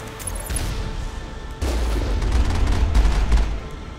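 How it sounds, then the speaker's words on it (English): Rockets fired in the video game Mass Effect during a snowy mountain drive on Noveria: a continuous rumbling barrage of blasts and booms that swells louder partway through, with no talking. "Ah, rockets coming at us."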